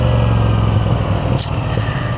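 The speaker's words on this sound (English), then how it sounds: "The exhaust sound, unfortunately, this is the stock exhaust" A Moto Guzzi V7 Sport motorcycle engine with its stock exhaust idles loudly and steadily up close, holding a constant low throb with a brief higher hiss partway through.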